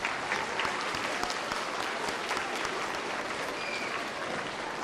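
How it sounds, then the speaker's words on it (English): Applause fills a school hall during a junior high academic awards program, a dense, steady crowd of hands clapping throughout without letup, fairly loud and unbroken by speech. "Let's give all of our outstanding scientists a round of applause."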